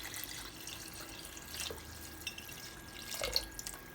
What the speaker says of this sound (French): Alors, on ajoute environ 2 litres et demi d'eau.